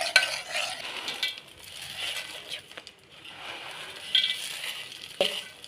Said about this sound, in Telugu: పాకులో ఇలా వేసుకొని కలుపుతూ ఉండాలండి.